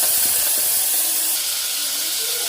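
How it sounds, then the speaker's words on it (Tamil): Dried prawns, washed beforehand, drop into hot oil in a pan and fry with a steady, loud hissing sizzle that carries on without a break. "ஆயில் சூடாக இருந்த பிறகு கழுவி வச்சிருக்கிற இறால் கருவாடை ஆட் பண்ணுறேன்"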